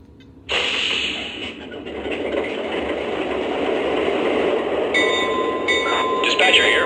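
A weathered model train engine starts up with a sudden jump in level, then hums and rattles steadily as it runs in a short demo. A faint high whine and some clicking sounds enter later on.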